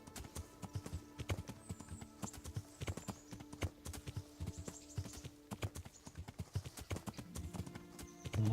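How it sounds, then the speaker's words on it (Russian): A horse walks along in the medieval Kingdom Come: Deliverance video game, its hooves clip-clopping in a steady, close rhythm for the whole stretch, with a faint whinny possible under the hoofbeats. "Лошадь, не дури."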